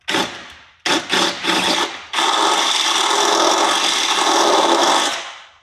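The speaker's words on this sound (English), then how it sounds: "We're gonna drill a hole in the body of the car" A power drill whirs in short bursts, then runs in one long steady grinding pass through a car's metal body for mounting a side skirt before winding down, loud and close with no voices.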